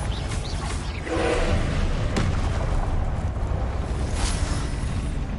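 A Confringo blast spell fires during a duel in the Hogwarts Legacy wizarding trials, giving a single loud burst at about 1 second and a sharp crack near 2 seconds over steady, dense game ambience.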